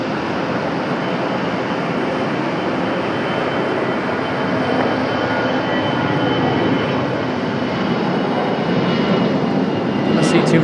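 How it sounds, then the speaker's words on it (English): A jet airliner takes off from runway 23 right at Raleigh Durham International Airport, its engines making a loud, continuous roar that holds for the full length and swells slightly toward the end. "runway 23 right, clear for takeoff."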